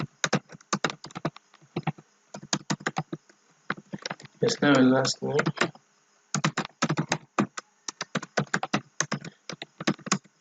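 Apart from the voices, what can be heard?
typing on a computer keyboard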